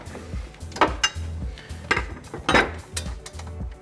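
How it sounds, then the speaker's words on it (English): Metal clinks and scrapes of a ring spanner working the spindle nut on a Festool TKS 80 table saw, several sharp knocks spaced irregularly over a low hum, close up with no talk. "Use the ring spanner to loosen the spindle nut, turning anti-clockwise."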